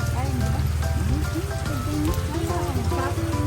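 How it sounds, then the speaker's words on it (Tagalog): Steady rain pours down in a Filipino street scene where an umbrella is being bought, a dense continuous patter with people talking over it throughout. "Ulan lang pala."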